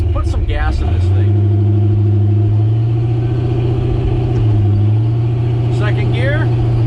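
A 1968 Chevy C20 pickup with a big block engine drives along. Its loud, steady low engine drone runs throughout, close up, while people talk over it.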